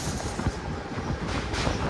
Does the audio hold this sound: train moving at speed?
yes